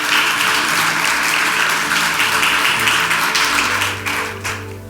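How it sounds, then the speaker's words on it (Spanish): A church congregation breaks into sustained applause at a Sunday morning service, dense clapping spread across the room over a steady low hum, easing slightly toward the end. "Den un aplauso al Señor"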